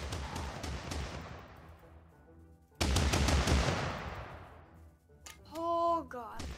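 Stormtroopers fire Zeus bolts in the TABS battle game, bursts of rapid crackling blasts that decay, then a second loud volley, followed by a short tonal electronic effect near the end.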